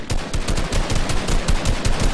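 Rapid automatic gunfire in a video game mech battle, loud, steady bursts of shots in a fast rhythm lasting throughout, with no talking.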